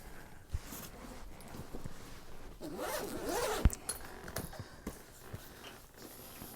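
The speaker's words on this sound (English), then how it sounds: "And these are just nice thick zippers." Thick zippers on a thinkTANK Airport Security V3.0 rolling camera case are pulled along, a rasping zip of a second or so amid soft handling rustles and clicks of the bag.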